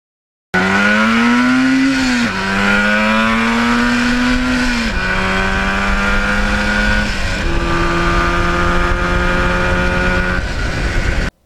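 A Yamaha RD400 motorcycle is ridden on a scenic road, its engine droning loudly and steadily as the pitch climbs through each gear and drops at every shift, with four or five shifts in a row.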